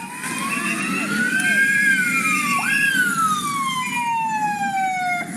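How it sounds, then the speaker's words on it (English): Emergency vehicle sirens wailing in an Italian town, a sweeping rising and falling tone with another siren layered over it, loud and continuous over low traffic rumble. "The sirens never stop."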